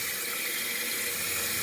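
Toilet tank refilling through a newly replaced fill valve, with water squirting down the overflow hole: a steady, close hiss of rushing water that stays constant throughout with no pauses.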